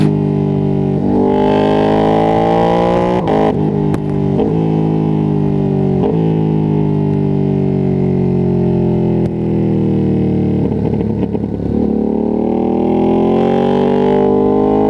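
Close, steady engine roar from a Ducati Streetfighter V2S motorcycle on the move, its pitch swelling and dipping slightly with throttle changes and brief shifts, with no talking.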